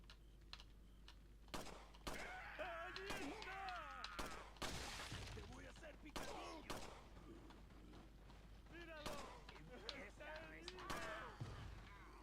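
Handgun shots in Resident Evil 4, a series of sharp, quiet cracks spaced irregularly, with someone talking over much of the firing.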